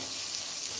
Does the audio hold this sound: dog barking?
no